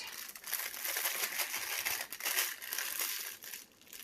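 A plastic bag crumpled and twisted by hand, continuous close crinkling and rustling with uneven bursts throughout, no voices.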